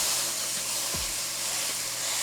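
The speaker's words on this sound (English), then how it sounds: "you hear the sizzle?" Ground beef sizzles in a very hot pan, a steady, loud, close-up hissing fry that fills the short stretch without pause.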